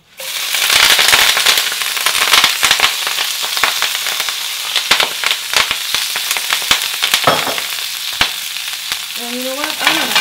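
Kale tossed into a pan of hot olive oil sizzles loudly, a dense crackling and popping fry with sharp spits throughout, close to the microphone and with no talking.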